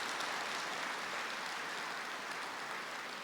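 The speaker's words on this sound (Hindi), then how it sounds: "अच्छी तरह से ताली बजाओ ना जरा" An audience at a spiritual talk gives a sustained round of clapping, a dense, even wash of handclaps at moderate loudness that holds steady for a few seconds without any speech.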